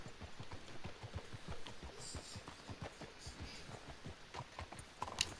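Horses' hooves clip-clop at a steady walking rhythm in Red Dead Redemption 2, close and moderately loud over soft ambient noise, with a brief sharper knock near the end.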